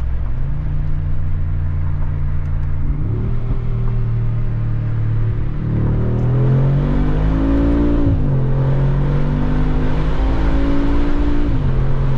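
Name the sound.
car engine revving through side exhausts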